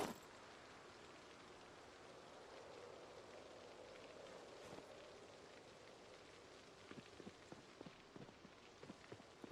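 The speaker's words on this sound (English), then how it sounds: "God, more rain? Forever rain in my game." Steady rain falls throughout a zombie survival game set in Echo Creek, a soft continuous hiss with a few sharper drip-like ticks toward the end, fairly quiet and with no one speaking.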